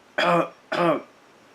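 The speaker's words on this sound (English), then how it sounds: "I'm coughing." Two short, harsh coughs close to the mic, evenly spaced, with quiet in between.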